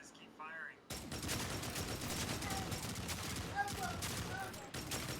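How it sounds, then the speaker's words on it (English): Dense, sustained weapon fire in Destiny 2 roars continuously as many guns shoot at once, loud and unbroken for several seconds after a brief quiet moment with a voice at the start. "Z says fire a weapon. Z says keep firing."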